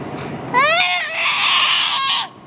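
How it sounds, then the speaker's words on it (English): A young child in costume screams loudly and close for nearly two seconds, the cry starting with a rising, strained pitch and then holding a sustained high wail before cutting off. "Stop screaming"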